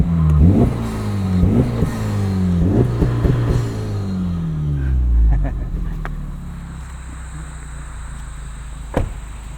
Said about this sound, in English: Let's do one more little rev here.